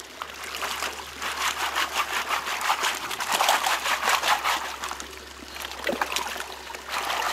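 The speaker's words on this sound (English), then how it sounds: "you're gonna submerge that in the water" A gold pan topped with a classifier screen, submerged and worked in stream water to break up clumps of material: continuous close splashing and swishing with rhythmic sloshing pulses, no talk.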